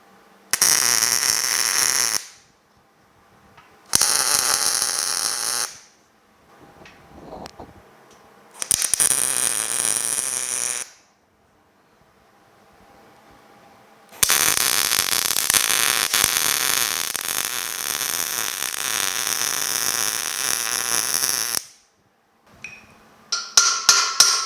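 Welding on steel parts of a homemade car rotisserie, with a few short crackling tack bursts followed by one long sustained buzzing weld, loud and close, separated by silences.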